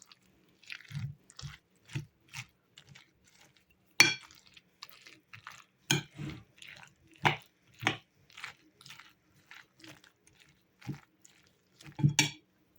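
Potato pancake batter with dried dill, garlic, salt and egg being stirred in a bowl, heard as a series of wet, squishy, irregular mixing strokes with occasional sharper clacks, close up and with no talking.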